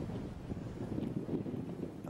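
Strong wind blowing across Turkato Lake in Canada in mid-September, a dense, buffeting rumble against the microphone that stays steady and loud throughout the short stretch.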